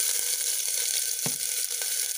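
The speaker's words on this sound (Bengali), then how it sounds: "গোটা জিরে দিয়ে দিলাম, এখন এর মধ্যে আমি দিয়ে দিচ্ছি আদা কুচিটা," Whole cumin seeds and chopped ginger fry in hot oil for moong dal, a loud, steady close-up sizzle with one brief clunk partway through and no voices.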